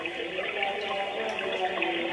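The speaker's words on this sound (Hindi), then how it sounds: "ये पानी का आवाज़ है उसमें" A soft, continuous trickle of running water plays at low volume from an electric baby cradle swing's small speaker, like a gentle flowing or splashing sound.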